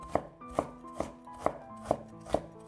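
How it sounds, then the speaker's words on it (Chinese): A knife strikes a cutting board six times in an even, unhurried rhythm while slicing a piece of ginger into thin strips, each chop a crisp, close thud-click with quiet pauses between and no voices. "1块生姜，先给它切成薄片，再切成细丝"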